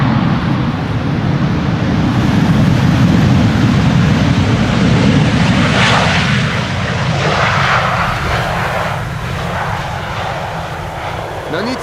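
An Emirates airliner arrives at Amsterdam Schiphol Airport in a windstorm, its engines a loud, sustained roar mixed with gusting wind that swells and then slowly eases, while people talk beneath it.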